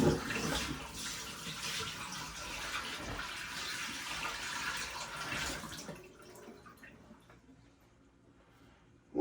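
Water from an Aerogarden is poured down a sink drain, a steady splashing rush for about six seconds that then thins to faint trickles and drips, close by with no talking.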